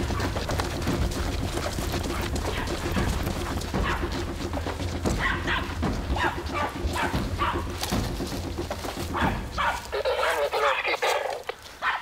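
Hunting dogs bark in a forest during an African hunt, rapid repeated barks and yips from several dogs at moderate distance, mixed with birdsong and a persistent low rumble, with people talking at times.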